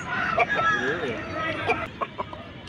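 Roosters and hens cluck and crow close by at a poultry market, with people chattering in the background and a few sharp clucks near the end.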